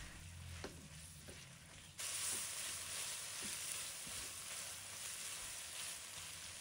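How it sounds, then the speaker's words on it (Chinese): Fried tofu puffs stir-fried in a pan with sauce, a steady close sizzle that jumps louder partway through, with soft scraping stirs of the spatula, and no talk. "接着放入油豆腐，翻炒均匀，使油豆腐充分混合。"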